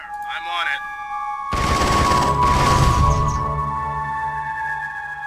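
Heavy gunfire erupts in a real-time strategy battle, a loud sustained burst of rapid automatic fire and explosions that starts suddenly after a short stretch of radio-style unit chatter, then rolls on dense and near.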